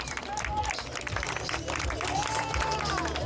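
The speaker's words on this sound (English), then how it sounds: "Applauding our fans here." Steady applause from travelling away supporters at an FC London versus Guelph United football match, a broad crowd wash of clapping with faint whistles and voices mixed in, continuous and moderately distant.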